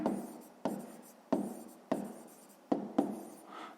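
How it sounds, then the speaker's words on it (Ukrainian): A pen writes in a notebook during a sixth-grade maths exercise, making close scratchy strokes that start with a sharp tap and then trail off, repeating about six times. "Пишемо у дужках чого кілограм."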